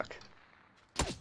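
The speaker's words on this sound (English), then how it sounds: "There's people from the bottom shooting us too" Gunfire in a PUBG match, a quiet stretch of faint noise then a sudden loud burst of shots near the end, with some game sound before it.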